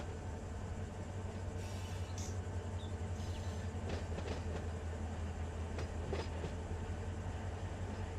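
A freight train with a remote-controlled DPU departs in the Run 8 train simulator, giving a steady low rumble with faint rail clatter and a few hisses, constant and moderately quiet throughout.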